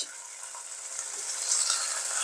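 Steady sizzling of sacrificial beef or mutton frying in a pan, a continuous crackling hiss that grows slightly louder, with no talking.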